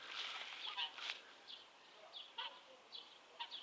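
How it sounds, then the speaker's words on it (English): Geese kept at a house in a small Russian town, honking and calling in short bursts scattered irregularly through the clip, fairly faint and distant over a quiet background. "Look, he's got geese."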